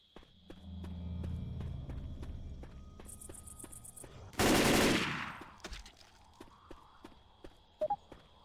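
Gunfire in the video game Left 4 Dead 2, with a loud burst of rapid shots in the middle, set among game footsteps, clicks and ambient chirping, with a few sharp pops near the end.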